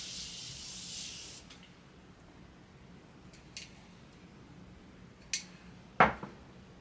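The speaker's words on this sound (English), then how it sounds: "you can also even just spray your face again" A soft hiss of face mist sprayed for about a second, followed by quiet room sounds and a few light clicks and taps near the end.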